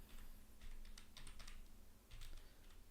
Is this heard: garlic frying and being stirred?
no